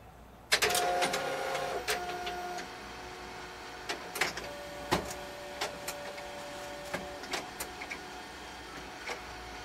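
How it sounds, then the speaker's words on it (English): A Canon MF8030Cn laser printer restarting close by makes a series of sharp mechanical clicks and clacks, mixed with short whirring motor bursts at irregular intervals. "Restart your printer."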